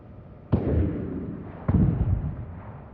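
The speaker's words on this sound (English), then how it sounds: "Target the nearby ship and fire torpedoes at it." Two booming photon torpedo shots fire at a nearby ship in a Star Trek video game, about a second apart. Each is a sharp, loud blast followed by a rumbling decay, with no talking.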